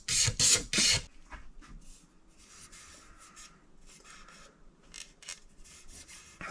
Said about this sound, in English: lots and lots and lots of scraping to get that sanding sealer off